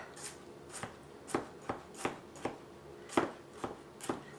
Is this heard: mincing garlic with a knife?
yes